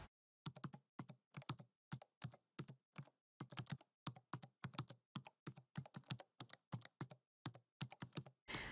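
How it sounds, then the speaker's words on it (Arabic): Keystrokes on a computer keyboard set to English, typing a slide title in PowerPoint: a steady run of crisp, close clicks in quick bursts with brief pauses, no talking. "أضغط على التايتل وأبدأ أكتب له، أتأكد إنه كيبوردي إنجليش"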